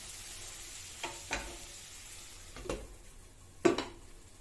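Okra frying in a pan gives a faint sizzle beneath several light metallic clanks and taps as a lid is handled and set over it, the last knock the loudest.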